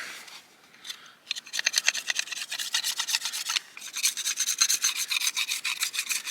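Repeated rasping cuts through dry, brittle mullein stalks, a quick run of close crunchy strokes with a short pause midway, no voices.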